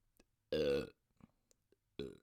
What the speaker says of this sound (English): Alcohol burps.